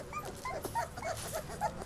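A four-week-old puppy from a litter whimpers in a string of high, thin, close whines and yips, with faint background noise.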